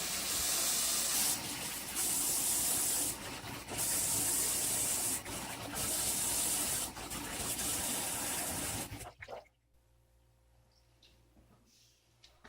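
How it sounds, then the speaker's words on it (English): Running tap water pours onto raw chicken in a kitchen sink, a loud steady splashing gush that shifts in pitch as the meat is moved, then the faucet shuts off, leaving quiet. "I'm gonna just give it a quick rinse."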